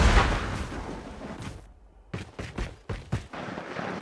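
Gunfire from the Odin rifle in the mobile game Call of Duty Mobile, with a loud burst, a brief pause, then several sharp shots in quick succession, fairly close and clear.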